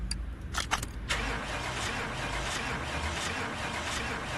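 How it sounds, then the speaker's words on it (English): In Car Mechanic Simulator 2018, a car fitted with a brand-new starter cranks in a few quick bursts, then catches and settles into a steady idle, close and clear with no talking. "Start car."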